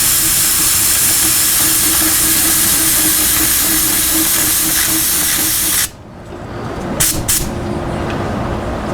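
A Badger 250 airbrush sprays lacquer in a steady, loud broadband hiss for about six seconds, then cuts off abruptly, followed by a couple of short bursts and a quieter hiss.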